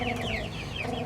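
A flock of Cornish cross chickens clucks and murmurs continuously nearby in a farmyard, with soft overlapping calls over a dense, steady background.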